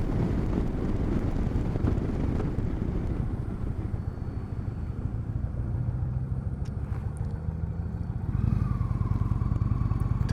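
A 2019 Indian Chieftain Dark Horse motorcycle rides along with a steady engine drone under heavy, continuous wind buffeting, with the pitch shifting slightly near the end.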